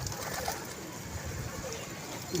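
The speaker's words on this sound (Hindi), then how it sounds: "माशाल्लाह यार क्या कबूतर है यार" Pigeons at a pigeon club, with soft cooing amid a steady background of general noise, fairly low in level throughout and no clear speech.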